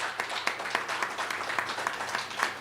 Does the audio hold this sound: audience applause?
yes